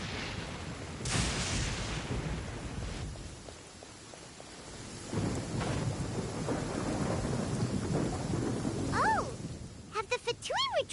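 A Genshin Impact thunderstorm brings heavy rain, rolling thunder and deep rumbles, with voices speaking over the storm toward the end.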